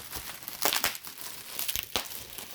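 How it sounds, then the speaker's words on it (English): Crinkly plastic packaging of an HPI radio system, a TF40 2.4 GHz transmitter set from a Savage XS Flux kit, is torn open nearby in several sharp crackling bursts and rips, with no talking. "Let's see if I can rip this open."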